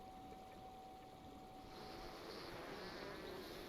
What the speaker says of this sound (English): I hear a little bee noise